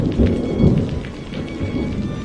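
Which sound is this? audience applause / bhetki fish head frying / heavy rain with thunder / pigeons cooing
heavy rain with thunder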